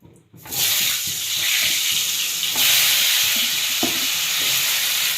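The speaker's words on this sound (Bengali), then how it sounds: "এখন আমি কুমড়াটা ভাজি" Pumpkin frying in hot oil in a pan for a Bengali-style duck curry, a steady close sizzle and hiss running throughout with occasional soft clinks and stirring sounds, no talking.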